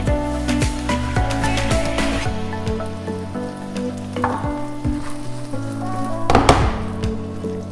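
Tomato sauce poured into a pan of well-sautéed peppers sets off a loud, steady sizzle, crackling and popping throughout, with a sharper burst of spitting near the end.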